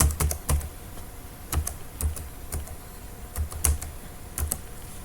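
Mobile number being typed on a computer keyboard, with a quiet, irregular series of key clicks in small bursts and brief gaps, close and alone.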